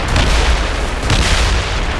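Ship cannons fire in the naval combat of Assassin's Creed Rogue, loud booming blasts layered into a dense, rumbling roar that swells twice with no clear gaps.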